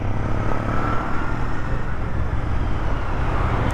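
A Royal Enfield Bear 650 twin-cylinder motorcycle pulling hard above 4000 RPM on the road, a steady loud engine roar with wind rush, continuous and close throughout.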